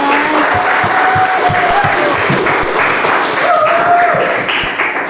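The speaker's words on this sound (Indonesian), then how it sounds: "Tepuk tangannya dulu dong teman-teman." A crowd applauds steadily for several seconds, dense clapping filling the room, with faint voices and cheers mixed underneath.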